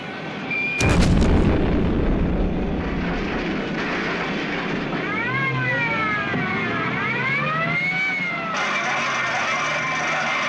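A large aircraft's ejectable fuel pod detonates in a Thunderbirds episode, a sudden loud blast that booms and rumbles for about a second before fading into a sustained roar, with rising and falling whistling tones later.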